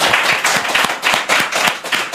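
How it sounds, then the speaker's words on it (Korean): An audience claps for a Liberty Korea Party preliminary candidate as he is introduced at an interview. The applause is loud and close, with fairly steady, rhythmic claps and no talking. "여러분 박수 한번 주십시오"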